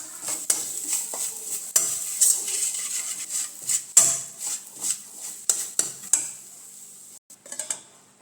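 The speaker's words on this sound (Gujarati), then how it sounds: "થોડું લાલ મરચું હળદર એક ટુકડો ગોળનો આ બધું સરસ રીતે આપણે મિક્સ કરી લેવાનું છે" Spice masala of red chili, turmeric and a piece of jaggery mixed in a pan for stuffed bitter gourd, with repeated metallic spoon clinks and scrapes against the pan in an irregular rhythm, close and fairly loud.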